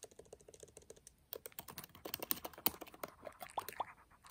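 Typing on a laptop keyboard at home: quick, irregular clicking keystrokes, close and fairly quiet, in a steady burst with no talk.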